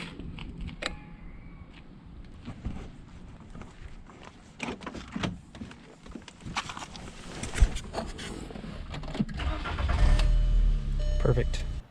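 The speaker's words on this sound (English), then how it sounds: "I'm gonna go ahead and see if this will jump start it" A car engine is started with a JOMGAN jump starter: clicks and door handling come first, then the engine turns over and catches into a rising rumble near the end, with a voice talking throughout.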